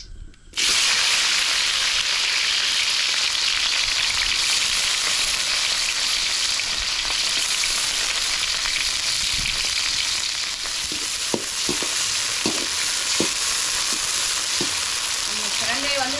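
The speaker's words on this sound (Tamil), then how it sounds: "சுத்தம் பண்ணி வச்சுருக்கிற பிரண்டையை சேர்த்து நல்லா வதக்கிக்கலாம்" Cleaned pirandai (adamant creeper) sautéing in oil makes a loud, dense sizzle that starts abruptly and holds steady, with stirring scrapes and taps joining in the latter half.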